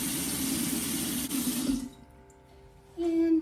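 Very hot, almost boiling water gushes from a tap into a sink with a steady rushing splash, then cuts off briefly before a faucet squeak and flow resume.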